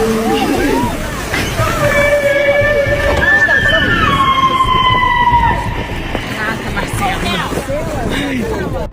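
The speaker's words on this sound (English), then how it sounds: "Just listen to the whale sing as this lady gets up close and personal for a once-in-a-lifetime experience." A whale sings at close range while a woman gets near it, long sliding tonal calls rising and falling over a steady wash of water noise, with faint chatter underneath.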